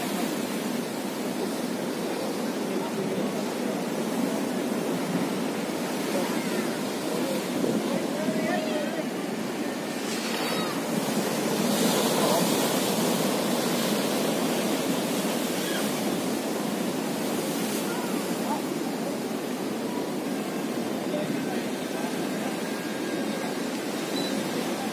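Ocean surf at Menganti Beach in Indonesia gives a constant wash of waves and wind noise throughout, with faint voices in the background.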